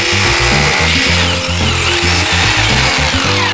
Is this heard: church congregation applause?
no